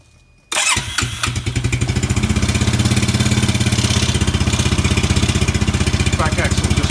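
A Suzuki Quad Runner ATV engine cranks and catches with choke off after a short quiet pause, then settles into a loud, steady, rapid idle chugging close by, with a voice speaking briefly over it.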